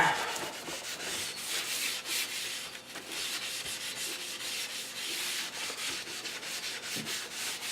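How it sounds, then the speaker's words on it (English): Rust-browned rifle metal parts get a final buffing, heard as continuous close rubbing and scouring strokes in an even, repeating rhythm with no talking. "Final buff, clean all the crud off of it."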